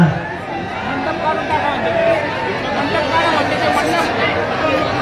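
A large crowd packed together at an outdoor political rally, a dense continuous roar of chatter and jostling with some speech rising out of the babble throughout.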